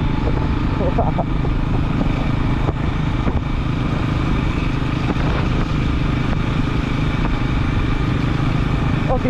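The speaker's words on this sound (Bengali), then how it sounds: "ও তিনদাস পা দিয়ে বাইক চালাচ্ছে গাইস" Motorcycle engine running steadily while being ridden, a continuous close low drone with wind buffeting throughout and no pauses.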